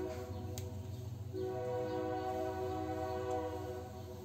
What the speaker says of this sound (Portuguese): E passa muito trem.